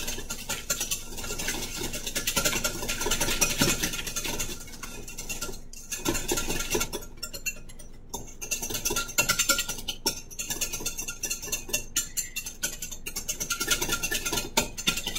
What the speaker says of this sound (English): now I'm going to whisk that together just until it's smooth